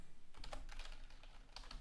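Rapid clicking of keys on a computer keyboard as a terminal command is typed, a quick irregular burst of close, crisp taps with a few louder strikes.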